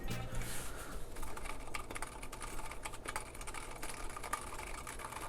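Steady, rapid clicking of keys on a mechanical keyboard with an aluminum plate, fairly quiet and close, with a faint background hum.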